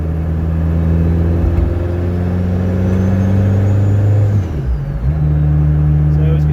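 A 330+ bhp Citroen Saxo VTS turbo with a gripper plate diff drones steadily from inside the cabin, a faint high turbo whistle riding over the engine before it briefly dips and picks up again.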